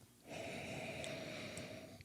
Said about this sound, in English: I want to hear your sniffs.